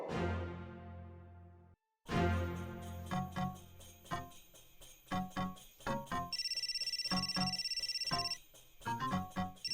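A phone ringtone in a Hindi TV drama: a synthesized melodic ring of bright repeated notes, loud and close, with a brief pause partway and a sustained chiming tone later, and no talk over it.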